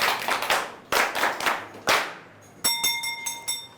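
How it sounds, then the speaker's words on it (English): Students in a secondary school classroom clap for a classmate, a few quick bursts of sharp hand claps followed by a tighter run of crisp, evenly spaced claps. "Clap for him."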